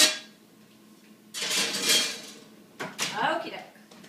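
Metal oven racks are shifted inside an oven, giving two bursts of clattering and clanging separated by a quiet moment. The sounds are moderately close and not loud.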